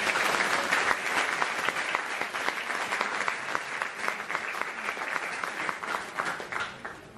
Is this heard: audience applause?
yes